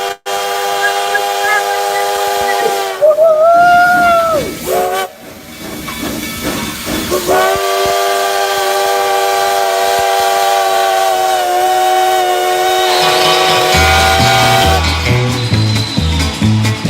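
A steam train gives a loud, close whistle, holding long tones that bend in pitch. Heavy steam hiss runs under it and continues through most of the stretch.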